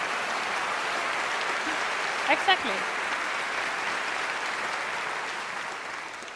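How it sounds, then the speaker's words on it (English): A crowd at the final concert of the Queen Sonja singing competition applauds steadily and fairly loudly, making a broad, even wash of clapping. A brief voice speaks partway through. "give them a good round of applause"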